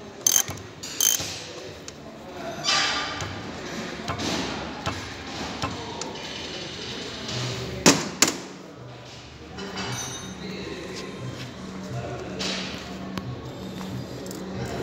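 A nut on the C terminal of a starter motor being loosened with a ratchet wrench; repeated clicking and ratcheting mechanical sounds with a few louder clunks and taps, fairly close.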